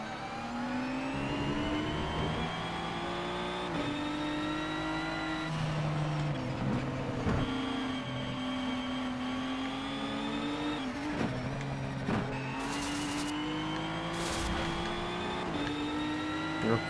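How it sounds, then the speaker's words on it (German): A race car engine in Need for Speed Shift 2 Unleashed holds a loud, sustained high-pitched whine, climbing and dropping through gear changes with brief tire chirps, close and continuous without any voice. "Alter, wenn der aufs Gas latscht."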